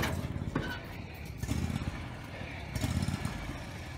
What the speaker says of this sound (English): You hear my mower, the way it idles.